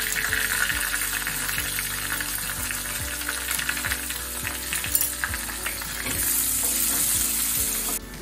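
Chopped onion hitting hot oil already crackling with mustard seeds, cumin and crushed garlic, giving a steady, loud, close sizzle with scraping stirs and spatters throughout, no voices.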